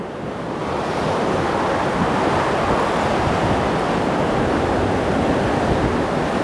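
Large ocean surf washes in a dense, continuous roar, steady and fairly loud, with wind mixed in and no voices.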